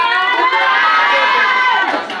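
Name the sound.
studio audience clapping and cheering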